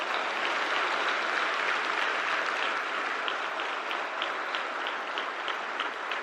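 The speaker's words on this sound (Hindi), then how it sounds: "दिव्यांग के हमारे जितने अवॉर्डीज हैं उनके लिए जोरदार तालियां।" An audience applauds disabled awardees at a ceremony, a loud, continuous crowd of clapping hands sustained throughout with a few sharp individual claps standing out.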